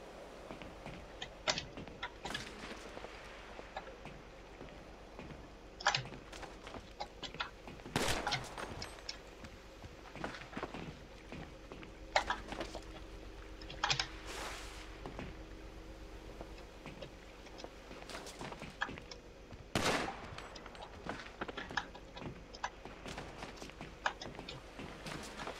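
Gunfire in the video game GTA Online during an agency VIP mission, with sharp shots cracking out irregularly, sometimes in quick bursts, over a constant dense game backdrop for the whole stretch.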